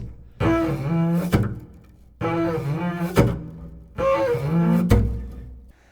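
Three long circular-bow scrapes on a double bass, each swelling with a rough, grinding texture and ending in a sharp accent, separated by short silences.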